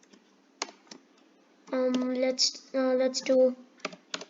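Quick bursts of clicking keystrokes on a computer keyboard, tapped a few at a time, up close, broken up by a voice talking in short stretches over and between the keys.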